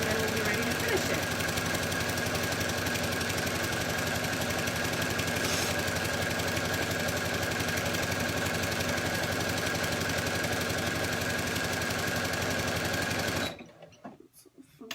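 A sewing machine stitches along one side of a quillow, a steady, loud, rapid mechanical whir that runs without pause for most of the span before stopping abruptly near the end.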